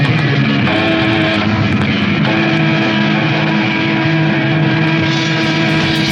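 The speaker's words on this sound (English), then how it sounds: "Do you want to hear what a dying on fire guitar sounds like?" A Fender Stratocaster guitar burns, giving a steady loud rumbling, droning roar with faint tonal hums and crackle throughout, close and unbroken with no speech.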